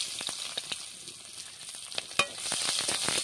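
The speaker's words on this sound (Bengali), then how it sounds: "তেলটা গরম হয়ে গেছে, ওর মধ্যে দিয়ে দিচ্ছি একটা শুকনো লঙ্কা, দিয়ে দিচ্ছি তেজপাতা, দিয়ে দিচ্ছি পেঁয়াজ কোচানো।" Dried red chilli, bay leaf and chopped onion sizzling in hot oil in a home kitchen, a steady hiss with scattered pops and a few sharper crackles, fairly close and continuous with no one talking.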